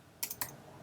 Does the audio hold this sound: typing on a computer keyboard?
yes